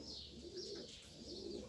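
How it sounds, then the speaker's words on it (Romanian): A show pigeon coos softly in a low, rolling, repeated call. It sounds faint and close, with faint chirps over a quiet background. "Masculul este un porumbel de Gabi Van den Abele,"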